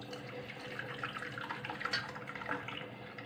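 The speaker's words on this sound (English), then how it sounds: "So we are gonna strain the gulab jal, or you can say the rose water." Homemade rose water being strained, a steady trickle and splash of liquid pouring through a strainer into a container, continuous and close with small drips, no voices.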